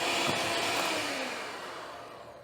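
An electric mixer whips cream for homemade raspberry ice cream, giving a steady, loud motorized whir that holds for the whole stretch and eases off slightly toward the end.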